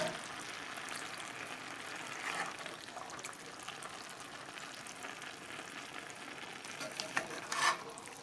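A cheesy stuffed pepper skillet mixture being stirred in the pan, a soft steady scraping and gentle sizzle at a moderate level throughout, with a brief louder clatter near the end.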